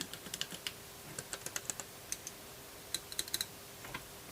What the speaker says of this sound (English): We'll give it a nice positive click.